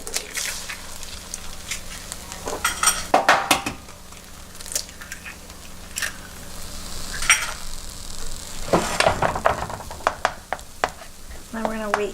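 Eggs frying in a pan pushed beside fried rice, a continuous sizzle broken by scraping and stirring with a utensil and occasional metallic clinks, with no voices.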